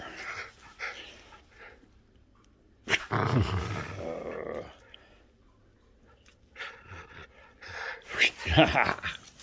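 A dog growls in short rough bursts while tugging at a pink toy, close to the microphone, with someone speaking between the growls and once mimicking a growl himself.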